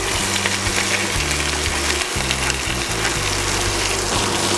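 Cabbage frying in a pan gives off a steady, loud sizzle and hiss that runs throughout, with a low humming tone shifting underneath.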